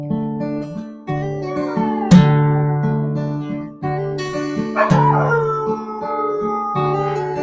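A dog howls in long, wavering, tonal cries with a few sharper yips, loud and close, sustained throughout with brief breaks.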